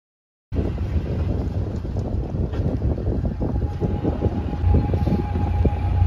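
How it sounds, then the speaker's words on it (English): Steady, loud wind buffeting the microphone, a continuous low roar that persists without letup from start to finish. "Windy this morning."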